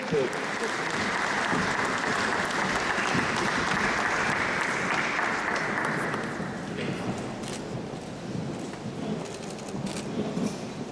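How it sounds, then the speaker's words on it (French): Sustained applause from a gala audience fills the room, dense and loud throughout, thinning slightly toward the end while a voice speaks over it. "On peut l'applaudir encore une fois."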